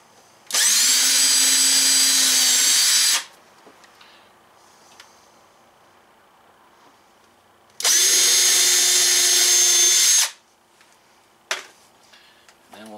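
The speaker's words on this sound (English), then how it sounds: "Drill a little bit of a hole here." A power drill bores a hole in mahogany, two loud sustained whirring bursts of about three seconds each separated by a quiet pause, with a sharp click near the end.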